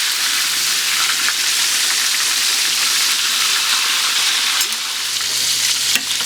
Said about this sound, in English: 2 pieces of turkey in there and let them cook